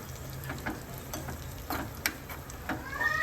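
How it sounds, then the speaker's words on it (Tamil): Raisins fried in a pan until puffed, for moong dal payasam, giving a steady close sizzle broken by light crackles and small ticking pops. "ட்ரை கிரேப்ஸு நல்லா ஃப்ரை பண்ணிக்கோங்க"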